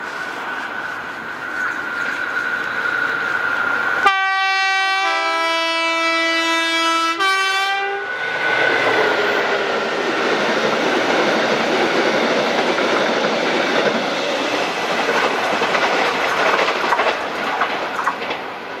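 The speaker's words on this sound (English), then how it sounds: "5Z25, the delay 1250, turned up at 1259, Caladonian Sleeper, service to Polmadie DHS from Aberdeen with 73971 getting the honours." Class 73 locomotive 73971 hauls Caledonian Sleeper stock past Greenfaulds, its horn sounding a loud multi-tone blast before the steady, roaring rumble and clatter of the passing train fills the rest.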